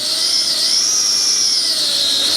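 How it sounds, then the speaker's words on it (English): A loud, steady high-pitched power drill whine grinding into metal while installing a bicycle dropper post, continuous and close, with a slight rise and fall in pitch. "Whenever you're drilling metal"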